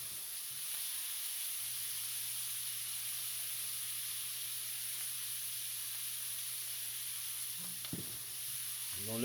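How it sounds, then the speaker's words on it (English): Liver sizzles steadily in a pan, an even bright hiss with a low hum beneath and a few clinks of a utensil near the end; no talking. "We're gonna let that fry."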